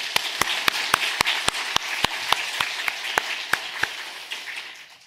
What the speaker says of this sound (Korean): 다시 우레와 같이 하나님께 영광의 박수 돌리겠습니다.